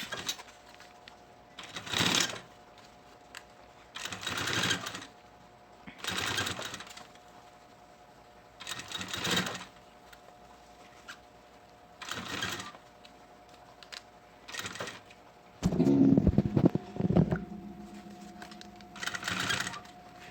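A sewing machine stitching piping onto synthetic fabric for a school pencil case runs in repeated short bursts with pauses between, a steady mechanical whir up close, with a louder, rougher stretch near the end.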